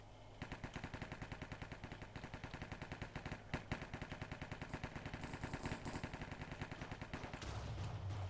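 Rapid automatic gunfire rattles out in a Minecraft Cops and Crims shooter mini-game. Dense bursts of shots repeat at an even, quick rhythm for several seconds, close and loud, with no voices over them.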